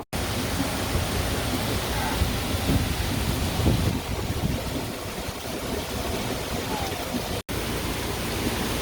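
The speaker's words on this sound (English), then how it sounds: "And it's pouring down rain." Heavy rain pours down on a canal boat caught in a squall on the Erie Canal, a dense, steady roar of drumming water and wind that stays loud and unbroken throughout.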